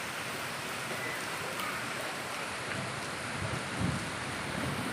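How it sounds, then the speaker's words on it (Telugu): Heavy rain pours steadily close to a house, a dense, even hiss of falling water with faint low rumbles, constant and unbroken throughout with no voices. "చూడండి మా ఇంటి దగ్గర ఎంత ఫుల్ వర్షం పడుతుందండి అసలు"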